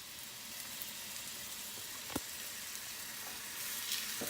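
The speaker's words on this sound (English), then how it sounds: "We're just going to sear it real quick." Pork tenderloin sears in olive oil in a pan over medium-high heat, giving a steady, close sizzle throughout with one brief sharp crackle partway through.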